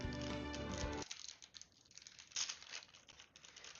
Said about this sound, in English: you hear me is crumpling my goddamn cookies here